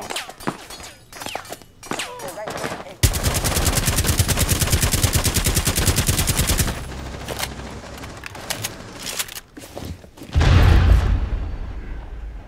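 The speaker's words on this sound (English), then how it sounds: "Thermited this double wall." Thermite breaching charge burning through a reinforced double wall in Rainbow Six Siege: a loud, dense crackling roar runs for several seconds, followed by a deep boom as the wall opens amid scattered game noise.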